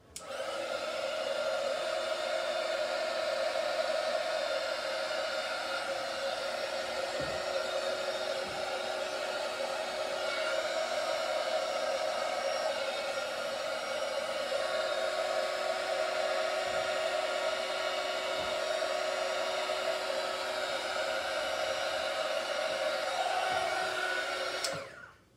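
A heat tool blows hot air over a resin coat on a wood panel, a steady, close, whirring roar with a fan hum that runs unbroken for about twenty-five seconds.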